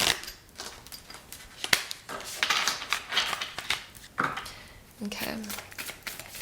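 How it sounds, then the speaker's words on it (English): A deck of tarot cards being shuffled by hand, with quick riffles and flicks of the cards, close and crisp, while a person speaks briefly. "I feel like doing like a full shuffle over here."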